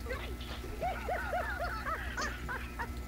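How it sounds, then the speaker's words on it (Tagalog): Several dogs bark and yip in a quick run of short, high calls close to the listener, with voices talking faintly underneath throughout. "ang dami aso dito eh. Dami aso dito."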